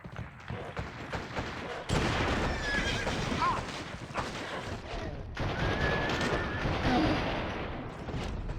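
A horse neighs in a video game with cavalry soldiers, loud whinnies among clip-clopping hooves and bursts of gunfire, while someone talks over the game sounds.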